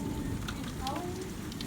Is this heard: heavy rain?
yes